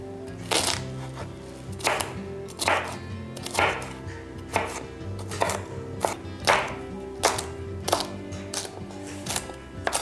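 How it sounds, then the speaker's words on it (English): Vegetables are chopped on a cutting board for a King Ranch chicken casserole, with regular, crisp knife strikes about every second, close and distinct over a quiet kitchen background. "When we get all this chopped up"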